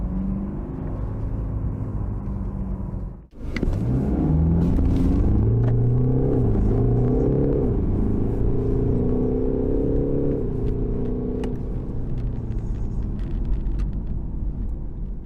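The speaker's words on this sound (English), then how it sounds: "It's quite a classic 4-cylinder diesel sound, and there's definitely a little bit of fakery coming through the speakers." A 2021 BMW 420d (G22 4 Series) with a 4-cylinder diesel engine, its sound partly boosted through the speakers, drones steadily inside the car. After a brief dip the engine pulls up in pitch as it accelerates, then holds a constant hum. Nobody talks.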